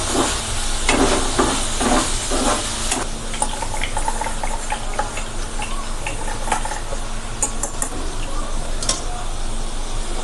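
Tomatoes dropped into a hot pan with roasted chillies, giving a steady loud sizzle and hiss with a few sharp crackles and stirring clatters, no talking.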